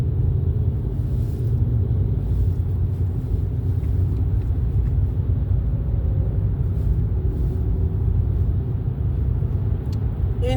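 A truck with two loud, worn-out mufflers gives a heavy, steady low rumble that stays close and constant throughout, with no talk over it.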